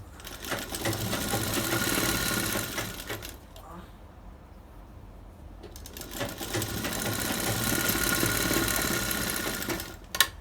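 A sewing machine stitches piping onto a blouse with a full presser foot, running in two long loud bursts separated by a quieter pause, with faint talk underneath.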